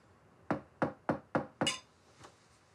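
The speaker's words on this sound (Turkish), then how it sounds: "Bu saatte kim bu kapıyı çalar?" Five sharp knocks on a door in quick, even succession, close and loud, followed by a faint trailing tap.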